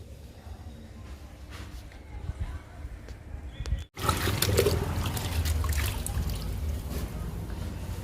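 Liquid poured onto indoor plants, including a schefflera and a ZZ plant, giving a soft trickle that breaks off briefly midway and then returns as a fuller, steadier pour close by.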